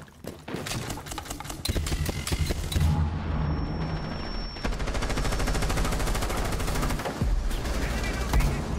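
Rapid rifle fire and bursts of automatic gunfire in the video game Rainbow Six Siege on the Hereford Base map, loud and dense, continuing with short breaks over game sounds.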